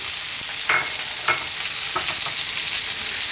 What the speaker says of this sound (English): We're now going to add in our pumpkin,